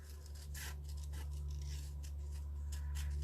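Scissors snip through paper as a flip-flops picture is cut out for a collage, a quick series of close, crisp cuts and rustles over a low background hum.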